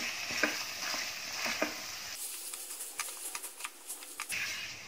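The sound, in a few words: potatoes and spices frying in a pan for pulao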